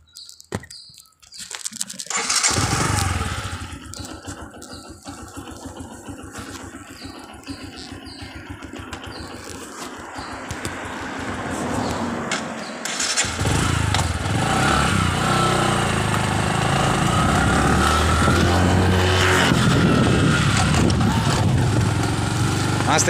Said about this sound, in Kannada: ನಾನು ಬೈಕ್ನ ಸ್ಟಾರ್ಟ್ ಮಾಡ್ತೀನಿ